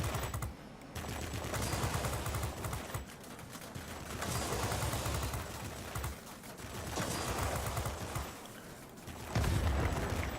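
An aircraft's guns fire in a World of Warplanes dogfight in rapid sustained bursts, separated by short gaps, set over a constant engine drone.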